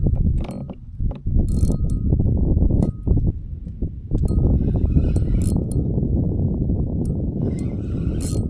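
Fishing reel at a dam with drag set at about 2 kilos, line pulled out in a loud, continuous ratcheting buzz with brief pauses and mechanical clicks, heard close up outdoors.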